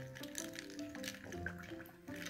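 Water trickles and gurgles faintly as an L.O.L. Surprise Glitter Series doll is filled, with soft, close liquid sounds and small drips.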